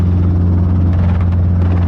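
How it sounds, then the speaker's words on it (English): Robinson R22 helicopter taking off from a runway, its steady low rotor and engine drone loud and close throughout with no pauses. "helicopter 522 Alpha Golf taking off runway 2 for right close"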